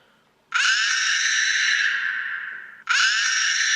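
A woman's scream sound effect loops on an iPhone app: one long loud scream fades slightly, then restarts abruptly at full strength.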